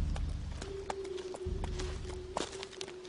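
Hooves of a ridden horse clip-clopping in a steady walking rhythm, sharp knocks repeating over a low hum and a sustained tone, moderately loud and without talk.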